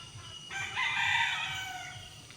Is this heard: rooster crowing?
yes